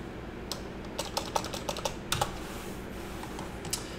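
Fingers tap out a command on a computer keyboard, an uneven run of close, light clicks over a constant background hiss, with no one talking.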